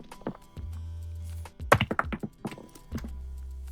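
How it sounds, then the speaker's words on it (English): Thud impact sound sample for game sound design: one dull, heavy thunk followed by a few softer knocks and rattles, set over a low background hum. "I actually like that thud impact."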